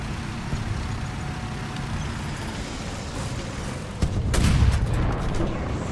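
A tank cannon shot and hit in War Thunder, heard as a dull distant boom thudding through steady battlefield rumble and engine noise, a single heavier burst near the middle.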